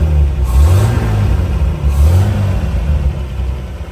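An old ute's engine, freshly running after a carburettor clean, revs loudly up close in two rising and falling pulls over a rough, steady idle, with no talk.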